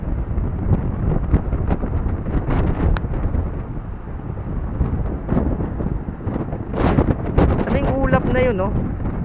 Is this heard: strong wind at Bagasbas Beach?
yes